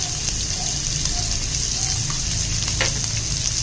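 Boiled pork ribs hit a hot pan with sautéed onion and garlic, giving a steady, close sizzle of frying that runs throughout, with a few faint clinks and stirring sounds on top.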